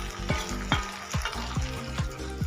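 Okra and onion fry in a pan with coriander powder and salt, a steady sizzle broken by regular scraping strokes of a spatula, close and moderately loud.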